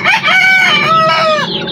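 A single loud rooster crow rings out up close, rising and then trailing off over a couple of seconds.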